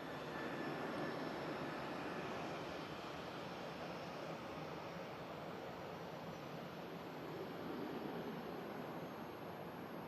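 An airliner climbs out after takeoff from Manchester Airport in thick fog, its engines producing a steady, fairly distant broadband roar that stays even and unbroken with no voices.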